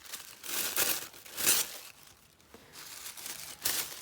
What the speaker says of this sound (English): we're going to take some old pattern pieces and just kind of rip them up and put them down